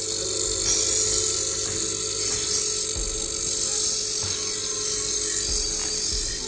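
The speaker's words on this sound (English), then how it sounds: "it will straighten the knife and you can put a new edge on it afterwards" Steady whirring grind of a knife blade on a CATRASHARP electric knife sharpener, running continuously and fairly close, with brief louder scraping passes as the blade is drawn through.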